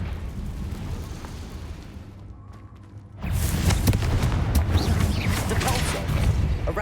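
A Confringo blast spell exploding in a Hogwarts video game: a sudden loud, broad burst that breaks a brief lull and rolls on as a sustained roar, with game noise beneath.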